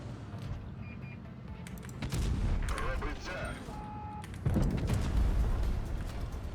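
A T57 Heavy tank cannon fires in World of Tanks Blitz, a loud booming blast, with rumbling engine and battle noise before and after.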